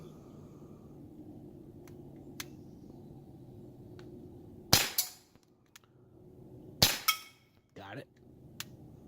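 Two sharp, loud shots from an Umarex Glock 19 .177 BB pistol fired at targets outdoors, spaced about two seconds apart, each with a quick metallic ring, followed by a faint knock, with a low background hum in between.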